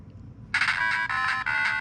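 A start-up jingle from the NES game Adventure Island, played on a GameShell portable retro handheld: a bright, buzzy chiptune tone kicks in suddenly and holds for over a second with slight pulsing, close and clear.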